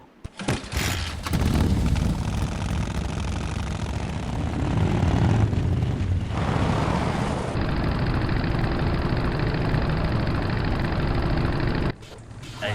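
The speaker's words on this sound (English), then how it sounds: "There's the sound of you driving over a rough road." A vehicle in the Full Throttle game rumbles steadily over a rough road, a loud, continuous engine drone with rattling texture that holds for about eleven seconds before cutting off abruptly.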